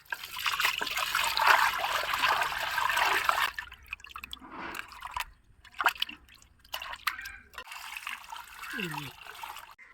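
Running water splashes and trickles over pieces of shark being rinsed for a home-cooked shark thoran. A strong stream pours at first, then thins into intermittent drips and dribbles, and a voice is briefly heard near the end.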